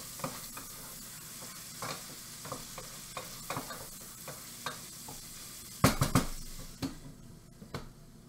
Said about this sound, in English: Continue to stir bacon so it doesn't burn.